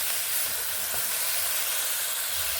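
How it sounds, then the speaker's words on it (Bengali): Tomatoes and black cumin with a little flat bean fry steadily in a pan, a continuous close hiss and sizzle with no voices. "একটুখানি নিম দিয়ে টমেটো ও কালো জিরেগুলোকে এইভাবে ভেজে নিচ্ছি"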